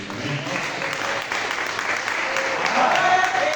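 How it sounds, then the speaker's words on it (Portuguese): A church congregation applauding, a dense wash of clapping that swells toward the end without clear voices over it. "Uma salva de palmas para Jesus Cristo."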